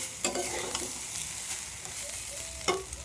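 Rice, lentils and potato for khichuri fry and sizzle softly in a pot while a spoon stirs and scrapes in brief repeated strokes, close and fairly quiet, with no talking.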